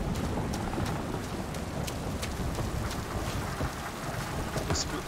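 Heavy rain pours steadily in a thunderstorm in the video game Mafia Definitive Edition, with low rumbling thunder beneath it and sharp crackles scattered throughout. The sound is loud and dense from start to finish.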